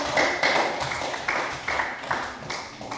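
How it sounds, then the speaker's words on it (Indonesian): A class of students clapping hands together in a classroom, a short burst of rhythmic group claps in quick repeated beats, fairly close, with faint voices underneath. "Iya, kita berikan tepuk tangan."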